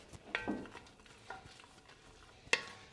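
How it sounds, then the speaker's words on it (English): Half-moon slices of one large onion get tossed in about a tablespoon of vegetable oil in a pot, giving a quiet sizzle under a few soft stirring clatters and one sharp utensil knock near the end. "I'm going to add 1 large onion that I sliced into half moons. Give this a toss."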